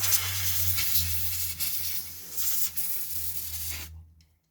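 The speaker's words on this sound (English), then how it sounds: "Quickly give that a spray down." Hissing aerosol spray aimed at an iPhone 5 opened for battery replacement, a steady airy burst lasting about four seconds with brief dips before cutting off into quiet, over a low electrical hum.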